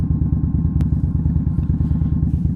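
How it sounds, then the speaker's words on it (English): An Indian Scout Bobber motorcycle, about 1100cc, idles close by through a Vance and Hines exhaust with a deep, loping rumble of rapid, even pulses that stays steady throughout. "Vance and Hines exhaust, man, sound awesome"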